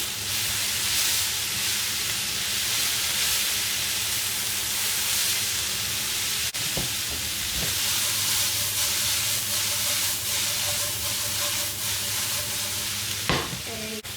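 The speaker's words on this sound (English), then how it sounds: "Then you add in the cabbage, all of the cabbage. Then you toss it." Shredded cabbage tossed and fried mamak style in a hot pan or wok, sizzling steadily and loudly throughout. A couple of sharp metallic clanks from the tossing cut through the frying hiss.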